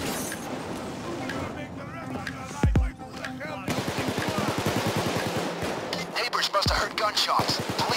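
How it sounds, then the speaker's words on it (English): Gunfire in the Payday 2 video game during a motel raid: rapid automatic bursts and sharp single shots, loud and close, with a couple of heavy booms and brief voices between volleys. "Gunshots."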